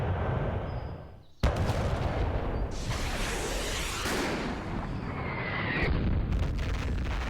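sIG infantry guns firing in a wargame set in the 1943 Kiev campaign, heavy booming blasts with whooshing tails and rumbling explosions layered over a constant low battle ambience, one sharp report standing out early.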